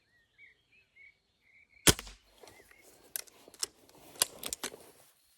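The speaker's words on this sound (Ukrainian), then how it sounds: "Так, 5 куль відстріляв" An IZh Baikal air rifle fired indoors, a series of sharp, close spring-piston cracks spaced irregularly over a few seconds, with faint handling clicks between them and no voice.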